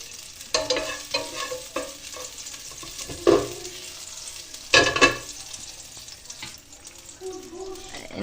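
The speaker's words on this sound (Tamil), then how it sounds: "கடாயில் இனி சிக்கன் நமக்கு லைட்டாக இதில் ஒன்று ஃப்ரை பண்ணி எடுக்கணும்" Chicken pieces sizzle as they are lightly fried in a kadai, a spatula clanking and stirring in bursts over the steady frying noise, with occasional water sounds in the background.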